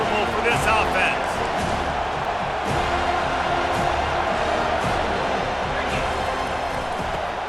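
Roaring stadium crowd at a football game, a steady dense wash of cheering and shouting with occasional whoops, continuous and loud throughout, with a commentator's voice running over it.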